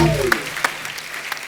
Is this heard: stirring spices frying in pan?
no